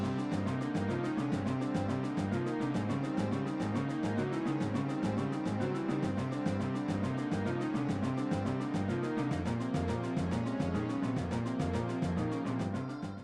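Video game boss fight music in 23/16 with xylophone, timpani and snare, a dense driving loop of uneven rhythmic groupings that plays loud and continuous throughout.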